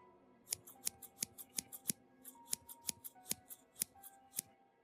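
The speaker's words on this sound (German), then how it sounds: "Also nahm er eine Schere und schnitt dem schlafenden Wolf den Bauch auf." Scissors snip steadily in close, quiet detail, about fifteen crisp metallic cuts in an even rhythm with a short pause midway, each blade closure sharp and isolated against near silence.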